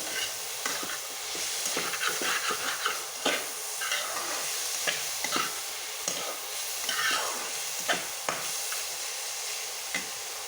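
Radish ghanto, a vegetarian dish, being stirred in a pan: steady sizzling with repeated scraping strokes of the spoon through the cooking vegetables, close and continuous with no talk.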